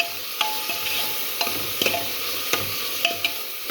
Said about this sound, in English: Now let me stir. Okay, see, you have to stir nicely like this.